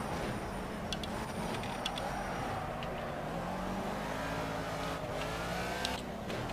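Race car engine in the Project CARS video game, a steady droning motor with shifting pitch as the car is driven hard, continuous and fairly quiet with no talk.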